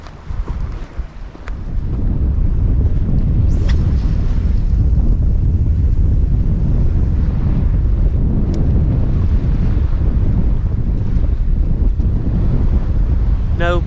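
Strong easterly wind roars steadily across the microphone aboard a fishing boat at sea off Brixham, Devon, with waves and hull noise blending into a constant loud rush.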